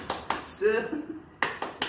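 A class of schoolchildren does the rhythmic spirit clap, with sharp, close hand claps falling in a short patterned beat: two claps, a pause with a voice between them, then a quick run of three.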